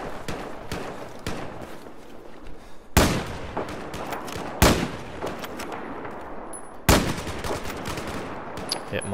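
Sniper rifle shots in the Battlefield 4 video game on the Dragon Valley map: three loud, sharp cracks spaced a couple of seconds apart over a steady bed of distant gunfire and battle noise.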